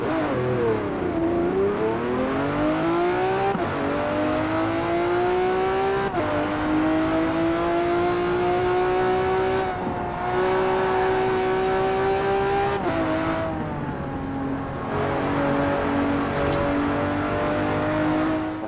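Hot Wheels Twin Mill engine in Forza Horizon 4, revving hard and continuously through repeated gear changes, with pitch climbing and dropping several times, loud and up close, no talk.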